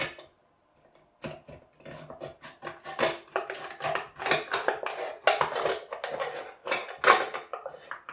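Thin aluminium drinks can being cut open with a blade, a series of close, irregular crinkling scrapes and sharp metallic crackles that come in bursts and grow denser as the cut lengthens.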